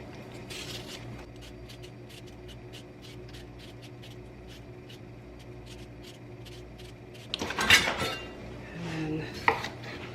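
Potatoes are sliced on a kitchen board with a steady run of quick, evenly spaced knife taps, followed by a louder clatter of dishes and utensils being moved around nearby.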